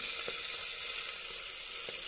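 Tangra fish frying in a pan of spattering oil, a steady bright sizzle with a couple of faint pops, close and fairly quiet, no talking.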